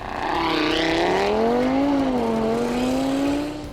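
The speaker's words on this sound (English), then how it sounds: "First up, one of the most surprising cars at the event, which was Kyle's Audi TT RS." A 2017 Audi TT RS engine roars loudly as it accelerates past at a runway racing event, the pitch climbing and then holding steady, with no voices.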